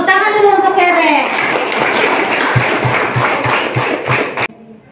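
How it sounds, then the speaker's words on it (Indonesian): Children in a classroom clap for a classmate, a short patter of hand claps with some steady beats, starting as a teacher's voice fades and cutting off abruptly near the end. "Tepuk tangan dulu untuk Keren."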